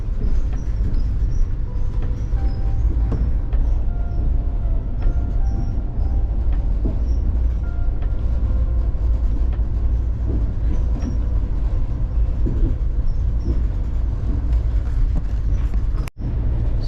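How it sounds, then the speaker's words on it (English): The northbound Amtrak City of New Orleans passes on the adjacent track, heard from aboard the southbound train as a steady low rumble and rolling rail noise, with faint clicks and a brief sharp bang near the end. "The northbound city of New Orleans, because we're on the southbound, so yeah, this is where we pass them."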